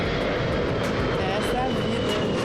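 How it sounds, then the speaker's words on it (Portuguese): An airplane passes low over homes on the approach route to Congonhas airport in São Paulo, a loud, continuous broadband engine roar filling the whole clip. A person talks over it. "Mais um avião, tá vendo, gente?"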